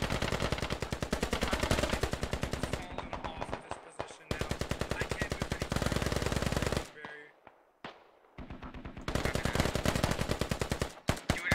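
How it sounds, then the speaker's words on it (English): AK rifle gunfire in the video game Squad: long, loud bursts of rapid automatic shots with a few short pauses and scattered single cracks between them. "he heard that AK fire now"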